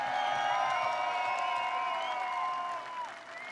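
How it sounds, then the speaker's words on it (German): Festival crowd at Wacken Open Air applauding and cheering after a stage announcement, with a broad wash of clapping and shouts and ringing, sustained tones over it that fade near the end. "ein Applaus für meinen Sohn Elvis"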